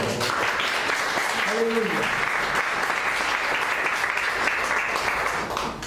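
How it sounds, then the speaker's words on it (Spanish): A church congregation claps steadily, a thick wash of applause filling the room, with a brief voice rising over it near the start. "Den una ofrenda de palmas a Él."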